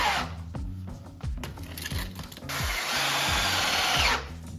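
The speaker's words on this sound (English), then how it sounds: "always drill a little hole first so you don't split the plank" A power drill bores a small pilot hole into a wooden plank while building a garage tire rack, its whine rising and falling in short bursts before a sustained, loud run near the end.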